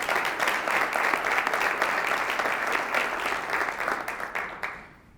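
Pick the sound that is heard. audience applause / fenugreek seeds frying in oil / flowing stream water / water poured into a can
audience applause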